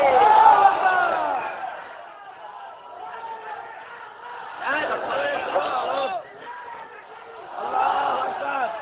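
A large crowd at an open-air religious gathering roars back in unison with a takbir response, in three strong surging waves of massed voices that rise and fade between each shout.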